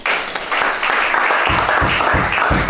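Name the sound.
applause acclaiming God in a church service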